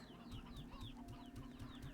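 Chickens cluck in the Slime Rancher video game, a busy run of short repeated clucks and chirps from several birds over a steady low background hum.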